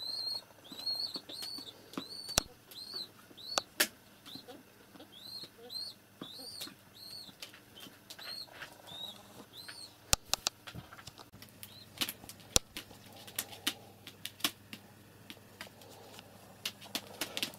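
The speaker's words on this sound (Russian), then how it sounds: "Это сам голубь." Pigeons close by beside their young give a run of repeated high squeaky calls, and sharp wing flaps and claps break in sporadically.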